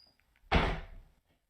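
A door slammed shut once indoors, a single loud close thud with a short fading rattle, alone with no talk.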